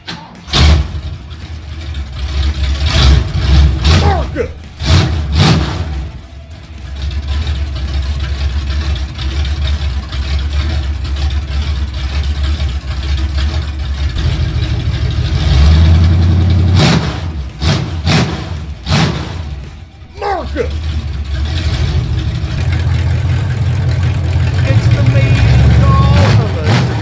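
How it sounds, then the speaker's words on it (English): A truck engine with open exhaust headers idles loud and rough, with repeated revving bursts and thumps over nearly half a minute, and a voice speaks intermittently over it. "Open header sound check."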